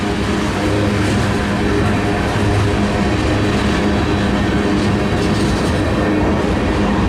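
A CSX manifest freight train rumbles past at steady low speed, street running in St. Marys, West Virginia, loud and close, with continuous wheel and rail noise throughout.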